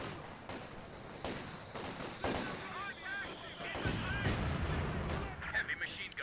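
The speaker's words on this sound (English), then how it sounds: "Nice mortar round." Mortar round firing in the real-time strategy game Company of Heroes 2, with booming artillery and gunfire blasts layered in dense battle noise while a commentator talks over it.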